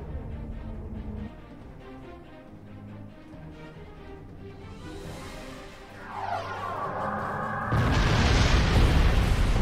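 Starship weapons fire and explosions in the space combat game Star Trek Online, with a steady rumbling bed of booms building in intensity toward a loud, dense blast near the end.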